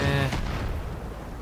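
A single deep tank cannon boom in the video game Far Cry 6, loud and close, trailing off into a rumbling decay.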